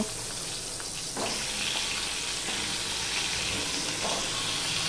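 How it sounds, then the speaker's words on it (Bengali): Eggplant pieces fry in hot oil with no salt or turmeric, a steady broadband sizzle running the whole time and swelling slightly after the first second, with no voices over it. "এবার বেগুনগুলোকেও আমি ভেজে নেব, নুন হলুদ ছাড়াই ভেজে নেব।"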